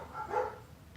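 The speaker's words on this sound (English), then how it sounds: "I'm surrounded by barking dogs," Several dogs bark together a short way off, a blurred, overlapping burst of barking that swells in the middle and fades, with no one talking.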